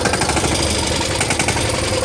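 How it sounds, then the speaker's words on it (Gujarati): A Sonalika tractor's diesel engine runs loud and close just after starting, a dense, rough clatter with a rapid knocking pulse and heavy vibration, with no voices. "તો ફાઇનલી મિત્રો આ ટ્રેક્ટર ચાલુ થઈ ગયું છે"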